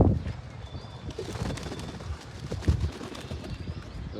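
Pigeons bathing in water and cooing, with soft splashes, flutters and low coos mixed in a busy, moderately loud flock scene with no talk.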